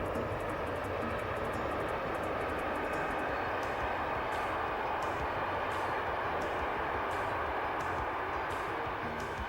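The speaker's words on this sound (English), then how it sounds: "Leaving Thun by rail, our train passes Lake Thun" A train rolls along the banks of Lake Thun in Switzerland with a steady, loud rumble and broad rushing noise, faint regular clicks of wheels over rail joints ticking through it, and no voices.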